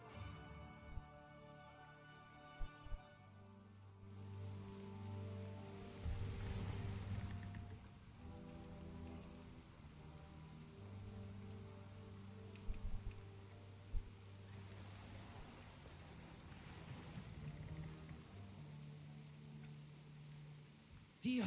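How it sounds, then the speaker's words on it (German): Steady rain falls in a World of Warcraft game scene, a soft continuous patter running under the game music and ambience throughout. "Regen? Davon haben die Schamanen nichts gesagt."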